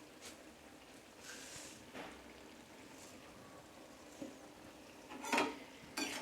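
Stirring sugar into a bottle gourd and prawn curry in a pan, with soft scraping and occasional sharp clinks of a spoon against the pan over a faint sizzle.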